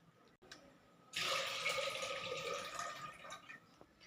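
Cut snake gourd (chichinga) is washed under running water in a kitchen, a short burst of splashing and trickling that starts suddenly and fades after a few seconds.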